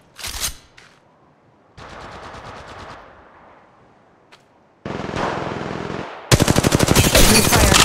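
Automatic weapon fire in the mobile shooter game Apex Legends Mobile: several loud rapid bursts of machine gun rounds, short early volleys then longer sustained strings near the end, separated by brief quiet gaps.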